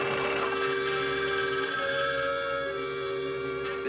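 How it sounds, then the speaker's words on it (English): Telephone bells ring steadily on a rural party line, a continuous jangling that fills the whole stretch at moderate volume with no talking. "Ring everyone on the line as quickly as you can."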